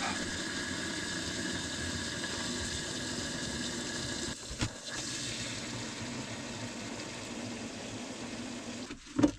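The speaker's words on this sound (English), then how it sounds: "draining coolant from a V12 engine" Coolant drains from a V12 engine in a steady, low, continuous watery trickle. A couple of brief knocks break in near the middle and at the end.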